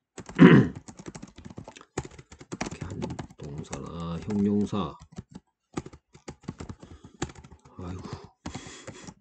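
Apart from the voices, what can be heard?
typing on a computer keyboard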